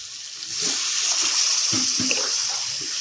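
Water poured into a pan of banana flower curry with potatoes and chickpeas, a steady close rush of liquid lasting a couple of seconds, with a few soft knocks of the vessel.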